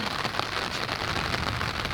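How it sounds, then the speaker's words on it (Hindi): Rain falls steadily, a dense close patter on surfaces that stays even and loud throughout, with no voices. "ऊपर से बारिश भी हो रही है"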